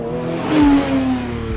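A Porsche 992.2 GT3 engine revs hard and loud with a rising, sustained howl that peaks and then drops away between upshifts, close and unbroken by talk.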